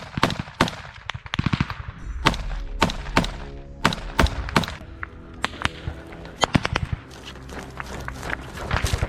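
Machine gun fire in combat trenches during the fighting in Bakhmut, heard as loud bursts and single cracks of gunfire, near and distant, repeating irregularly throughout with brief shouting in between.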